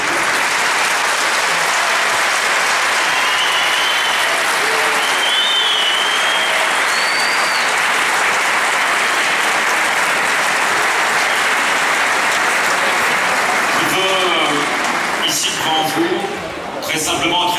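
A conference audience in Paris applauds steadily and loudly for the whole stretch, a dense wash of clapping with a few cheers, tapering slightly near the end as a voice begins.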